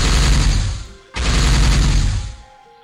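Two loud, close bursts of turret gunfire in OpenXCOM 40k, each a dense crackling volley, the first fading out before a brief gap and the second cutting in sharply and trailing off.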